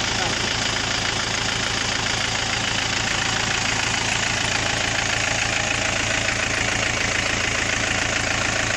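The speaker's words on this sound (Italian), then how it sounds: "Motore Perkins." Four-cylinder Perkins turbo diesel of about 120 hp in an Anomag HW130 excavator idling, a steady, loud, even rumble with a faint knocking texture throughout, with people talking over it.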